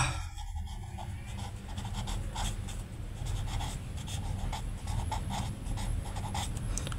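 A pen scratches on paper close by while a table is drawn up for a class 5 maths lesson. Short strokes and scribbles come in irregular bursts over a low background hum, and no one speaks.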